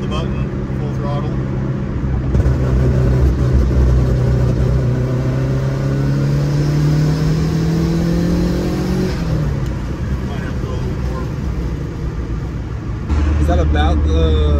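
A 2002 Subaru WRX wagon with rolling anti-lag held at full throttle, a loud, steady engine roar with rising pitch and boost whir that drops off then returns, with people talking over it.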